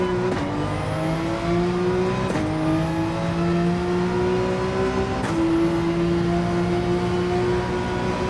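A race car engine in Gran Turismo, running on soft tires, drones loud and close at steady high revs. Pitch rises repeatedly through the gears, with short dips at each shift.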